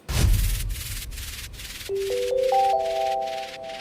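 Downlifter transition effect in an electronic track: a hissy, falling noise sweep that starts with a low impact, under soft rhythmic pulses and a few entering synth notes, with no talking.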